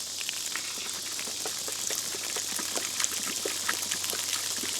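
Water pours steadily into a gallon jug at a homestead, a close continuous splashing trickle with small irregular gurgles throughout.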